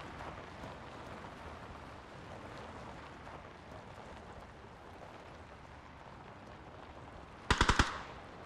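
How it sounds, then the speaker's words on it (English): In PUBG, after a long stretch of faint wind and ambience, a short, loud burst of about four rapid gunshots rings out near the end. "It's just me shooting."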